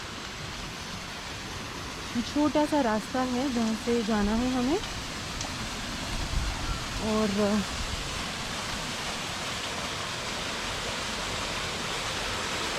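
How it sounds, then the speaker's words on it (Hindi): A small stream, the kind of channel used for power generation, runs beside a path near Jibhi in Banjar, Himachal. Its water rushes as a constant soft hiss throughout, with someone speaking briefly over it. "अच्छा ये छोटा सा एक नाला जैसा कुछ है जहाँ से हमें जाना है. यहाँ से पानी जा रहा है."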